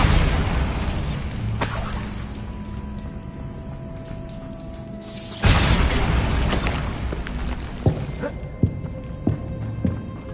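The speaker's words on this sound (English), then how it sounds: "Bombarda!" Bombarda explosion spells going off in Hogwarts Legacy: two broad booming blasts with long rumbling tails, followed by several sharp smaller pops and crackling debris.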